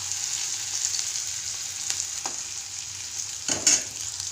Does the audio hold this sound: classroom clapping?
no